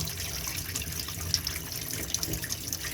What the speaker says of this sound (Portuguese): vou aumentar um pouquinho mais o fluxo. A minha intenção é que a água se estabilize naquela linha preta